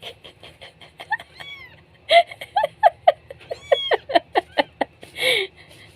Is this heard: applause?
no